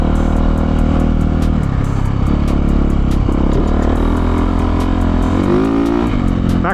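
A Yamaha YZ450F dirt bike, with a freshly adjusted clutch and a new Dunlop MX34 rear tire, is ridden on a dirt track. The loud engine drones without a break, and its pitch climbs and drops as the rider works the throttle. No one speaks.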